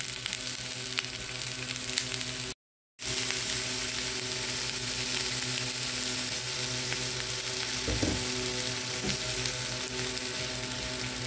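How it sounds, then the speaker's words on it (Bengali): Onions frying in mustard oil for an eggplant and tomato mash, a steady dense sizzle close by that runs throughout, broken by one brief gap and a faint knock near the end. "পেঁয়াজটাও আমি সরিষা তেলে ভেজে নেব।"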